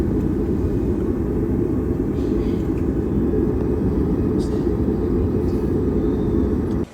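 A Singapore Airlines 737 MAX rolls after landing at Singapore, with a constant loud engine and cabin rumble throughout, heard from inside the plane with no clear talking.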